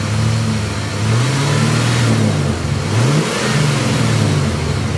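A car engine revs up and down repeatedly during a fuel pressure test with a gauge connected, a loud close mid-pitched roar that rises and falls in several swells over a steady idle, with no talking.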